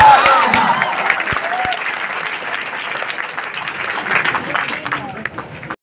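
Audience applause at a startup program event at a college in Munger, a dense wash of clapping that is loud at first and holds steady for several seconds before fading.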